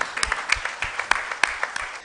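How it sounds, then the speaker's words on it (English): A live audience claps for quiz candidates at a prize presentation, scattered hand claps forming a brief, moderately loud round of applause with no talk over it. "A round of applause for the candidates."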